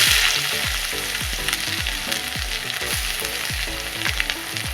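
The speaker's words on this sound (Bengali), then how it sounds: "এবার তেলের মধ্যে দিয়ে দিচ্ছি তিনটে এলাচ আর দারুচিনি আর একটা তেজপাতা আদা" Cardamom pods, cinnamon, a bay leaf and ginger fry in hot oil with a steady crackling sizzle, punctuated by regular clinks and scrapes of a stirring spoon against the pan, close and alone without voices.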